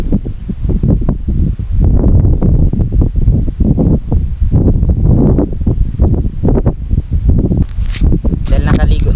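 Wind blows hard and steadily across the microphone at a cold riverside campsite by the Agno River, a dense low rumble that persists throughout while a person talks.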